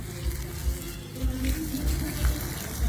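Water running and splashing as someone washes their legs outdoors, a soft continuous flow with small splashes at moderate distance.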